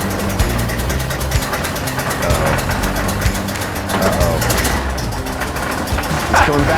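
A 1932 Ford Model B pickup engine labors uphill in high gear, a loud, continuous low throbbing with a pulsing rhythm and rattly mechanical texture throughout.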